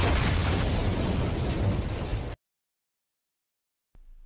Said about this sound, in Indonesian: Namun Nisei melemparkan granat kepadanya.